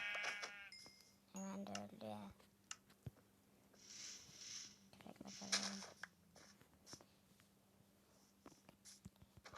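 A Minecraft sheep bleats in a quick wavering cry near the start, followed by soft clicks, pattering effects and quiet talk.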